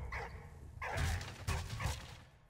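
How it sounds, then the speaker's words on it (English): A dog barks several times in the video game Valiant Hearts, with sharp, fairly loud yelps and barks repeating in quick bursts over a low background of game sound. "So we can switch to the dog."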